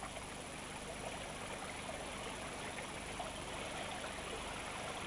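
A shallow forest stream flows in a steady, even rush of trickling water, continuous and fairly close, with no voices or other sounds.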